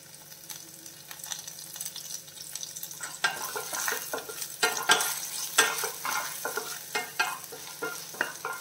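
Curry leaves dropped into hot oil with ginger, garlic and cashews in a Kerala-style okra curry, bursting into loud crackling sizzles and spatters after a quieter simmer, with stirring sounds throughout.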